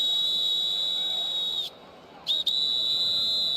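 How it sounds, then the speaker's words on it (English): A referee's whistle at a college football spring game, a long, piercing steady blast that cuts off briefly, then returns with two short chirps and another sustained tone, very close and loud. "Sorry for the whistle in your ear right there"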